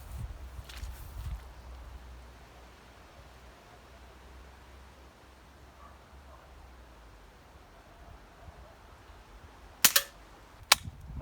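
Two sharp, close HW40 air pistol shots fired at a target near the end, preceded by quiet room ambience and faint rustling.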